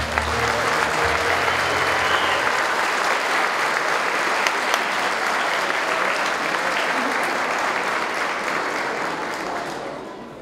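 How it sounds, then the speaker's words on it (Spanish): Loud, sustained applause from a large crowd at a graduation ceremony, steady clapping for about ten seconds before gradually thinning out at the end. "repetimos un fuerte aplauso"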